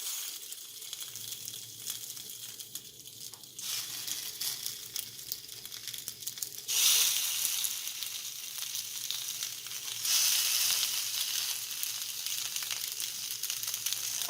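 Salmon steaks fry skin side down in melted butter, a steady crackling sizzle that swells sharply as the fish goes in and again later, close and continuous with no talk.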